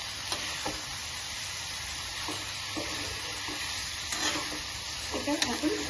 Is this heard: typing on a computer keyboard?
no